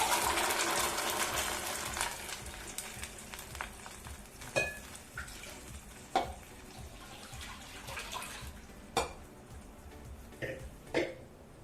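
Ground greens paste hits a hot frying pan for mossappu sambar, giving a steady sizzle and wet frying hiss that fades, with scattered spoon knocks and stirring scrapes on the pan.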